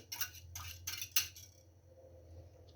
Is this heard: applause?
no